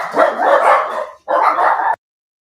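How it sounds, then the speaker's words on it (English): Dogs barking close by in two loud bursts, a rapid run of barks for over a second, a short pause, then another volley that cuts off abruptly into silence. "Hopefully you can hear me over barking dogs."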